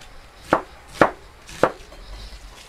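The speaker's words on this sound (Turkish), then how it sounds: "Şimdi lahanamızı bu şekilde doğruyorum" Cabbage being chopped with a knife on a board gives three crisp, evenly spaced chops, close and distinct, with quiet moments between them.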